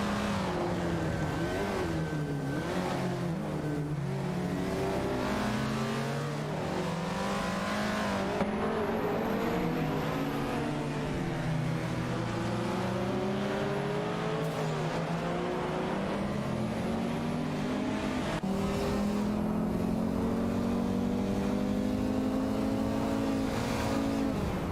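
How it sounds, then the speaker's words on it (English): Race cars, including a 1994 Volkswagen Golf and a 1995 BMW M5 E39, roar through a racing video game in a continuous layered engine drone, with revs rising and falling as cars shift gears and pass. "Bot 2 Kins Flora is also driving a Volkswagen Golf VS6 94, while Bot Bubati is in the BMW M5 E39 95."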